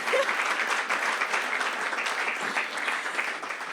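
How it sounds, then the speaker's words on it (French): An evening audience gives a performer a big round of applause before a talk on African music; dense, sustained clapping from a crowd fills the whole stretch at an even loudness. "faites un tonnerre d'applaudissements pour moi quand même"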